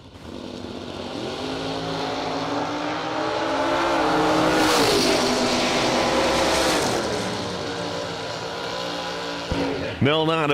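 Drag racing cars at a Cedar Falls, Iowa strip roar past loud and sustained, the engine note rising and sweeping, with an announcer talking over the noise and a sharp burst near the end.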